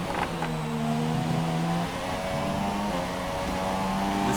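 An F1 car engine in F1 2017, racing at Australia, holds a steady high-pitched whine with shifting gear tones, loud and continuous, apparently short of power and grip.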